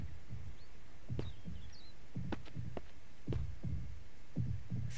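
Regular double-thump heartbeat in Mist Survival, paired low throbs repeating about every second over a constant ambient hum, with faint bird calls in the distance.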